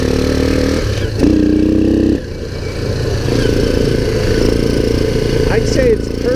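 A 2001 Kawasaki Bayou 300 ATV engine runs steadily close by, its low rumble continuous throughout, with a brief higher whine partway through and faint voices underneath.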